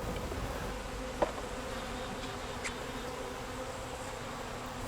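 Honey bees swarm around an opened backyard hive during smoking and frame removal for honey extraction, giving a dense, steady buzz throughout with a couple of faint brief clicks and no talk.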